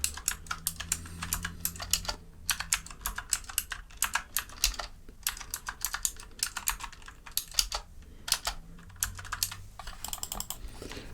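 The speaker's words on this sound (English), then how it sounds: "I just need to type something." Steady typing on a computer keyboard in a quiet after-hours game store, a close, crisp run of key clicks in irregular bursts with brief pauses and no talking.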